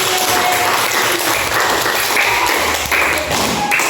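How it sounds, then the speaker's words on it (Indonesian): Schoolchildren in an Indonesian classroom clapping together, a steady run of close, fairly loud applause with tapping and thumping mixed in, continuing without pause. "Kasih tepuk tangan untuk apa ini?"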